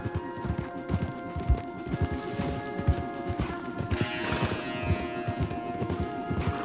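Steady hoofbeats clip-clop at a brisk pace in the video game Red Dead Redemption 2, a horse moving along over rough ground with a faint background wash, no talking.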